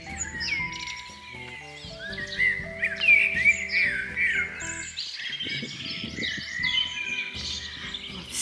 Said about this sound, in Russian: Послушайте, насколько они громко щебечут.